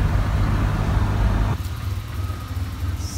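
1988 Ford Ranger engine at a rough, low idle, a close, loud rumbling throb that drops to a quieter, uneven chug partway through, with no talking.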